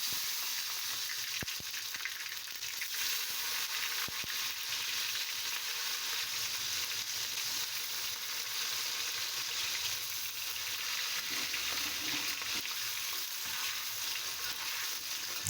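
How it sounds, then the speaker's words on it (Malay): Chillies and tomato for sambal belacan fry in hot oil, a steady, close sizzle that continues throughout with occasional stirring and no talk. "Lepas tu baru digoreng bahan yang lain ya."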